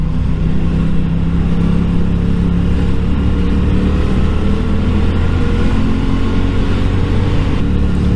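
Steady, loud motorcycle engine drone while riding through traffic, a continuous close rumble with no pauses and no talking.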